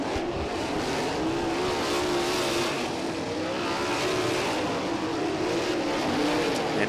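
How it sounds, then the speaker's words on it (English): High Limit Sprint Series sprint cars run hot laps at Lincoln Park Speedway, a continuous loud roar of engines with a wavering pitch as they circle the track, with no quiet gaps. "We'll do another quick hot lap session here for this group of cars"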